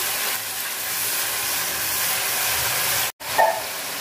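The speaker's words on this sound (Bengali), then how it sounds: "মশলা কষানো শেষ" Garlic paste, turmeric, chili powder and salt frying in hot oil give a steady, loud broadband sizzle that runs almost without a break, with one short dropout near the end followed by a small clatter.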